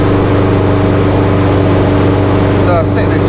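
A tuned 500+ BHP Subaru Impreza STi bugeye heard from inside the car, its engine a loud, steady, dense drone throughout, with a voice talking over it.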